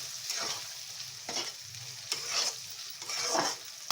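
A ginger, garlic, tomato and onion paste is stirred in a hot pan, a steady sizzle broken by four rhythmic scraping strokes, close and moderately quiet, with no voices.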